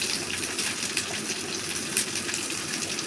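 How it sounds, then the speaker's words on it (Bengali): Garlic, onion and green chilli frying in oil for a chicken fry, giving a steady, dense hiss that holds at one level throughout with no talk. "অল্প ভাজবো।"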